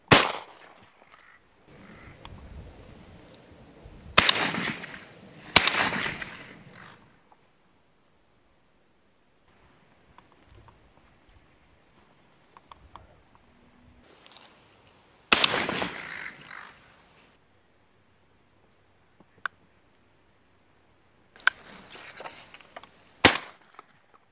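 Shotgun blasts from crow shooting in Ireland ring out as a few loud, sharp reports spread through the stretch, with crows cawing in between and long quiet gaps.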